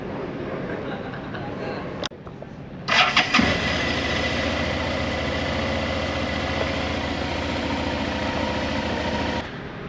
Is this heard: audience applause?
no